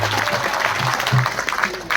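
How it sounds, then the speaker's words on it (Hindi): An audience at a devotional storytelling event claps together, a dense burst of applause with some voices and tonal sounds mixed underneath. "तालियां बजाओ एक बार उनके लिए।"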